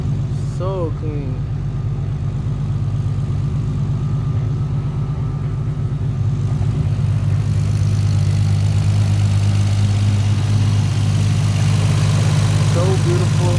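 A turbocharged 800-horsepower Toyota Supra engine idles loudly nearby with a low, lumpy, choppy-cam rumble, while brief voices speak over it.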